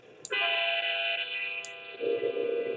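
Train in Chris Sawyer's Locomotion, a railway simulation game, with a short horn toot then a steady loud rumble and hum of the train passing close, and another brief toot partway through.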